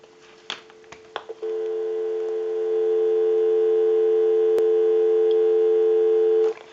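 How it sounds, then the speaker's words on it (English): A steady, loud telephone dial tone hums on an AT&T phone line, preceded by a few brief handling clicks and continuing unbroken for several seconds with no one speaking. "We'll go ahead and give you some dial tone."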